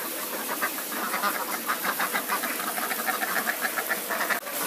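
Laying ducks on an Indonesian farm quacking in a steady string of repeated calls over a constant background hiss, with one sharp knock near the end.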